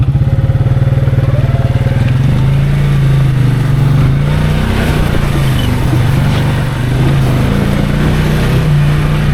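Daihatsu Hijet S110P mini truck engine laboring through mud with the diff lock engaged, a loud, close, steady drone with slight rises in revs throughout.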